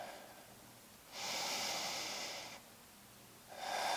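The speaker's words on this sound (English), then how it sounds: "And then exhale." Two long, soft breaths rush out in a yoga flow, the first slow and steady, the second starting just before the end, close and quiet with no speech.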